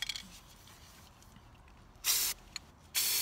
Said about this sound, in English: and then you keep on spray painting the colors that you want.